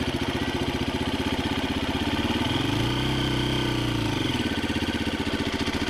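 A Husqvarna FE350S motorcycle engine chugs at low revs, loud and close, with a steady rapid pulsing that swells briefly in the middle before settling back.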